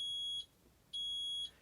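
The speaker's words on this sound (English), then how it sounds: "we're talking about the fault codes, which is when it makes a long piercing sound like this" A Fisher Paykel Smart Drive washing machine sounds its fault-code alarm: two long, piercing, steady electronic beeps separated by a brief gap, loud and alone.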